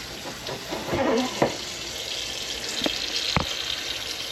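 Jasmine rice being rinsed under running water, a steady broadband wash of water with a few sharper splashy bursts near the start and two brief knocks later, fairly close and with no talking.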